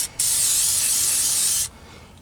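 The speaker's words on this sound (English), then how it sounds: "So if you want anything to last up north, you spray fluid film." Fluid Film rust protection sprayed from an aerosol can onto running board brackets on a 2024 Silverado 2500, one loud steady hiss of about a second and a half, close up, with no talking.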